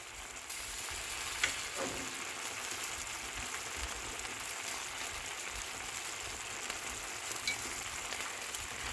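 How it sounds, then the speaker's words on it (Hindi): Chickpeas cooking in a pan over a high flame as tamarind pulp goes in: a soft, steady hiss of frying with faint stirring, and no talking. "दो मिनट तक मैंने इनको हाई फ्लेम पे पकाया है। अब मैं इसमें 2 टेबलस्पून इमली का पल्प"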